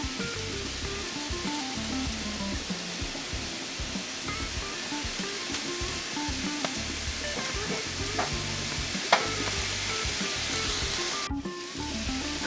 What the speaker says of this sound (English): So my lo mein noodles is cooked now. I'm just going to go ahead and drain the water off of it.